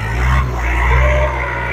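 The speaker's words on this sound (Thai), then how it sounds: "รถไถมันแรงดีเถอะ" A farm tractor works a rice field being reworked after flooding, its engine a loud, close, low chugging rumble that pulses steadily throughout.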